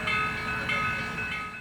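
Steam locomotive 148 of US Sugar sounds its whistle through thick fog, a sustained, harmonic-rich tone heard from a distance, steady with slight swells in loudness.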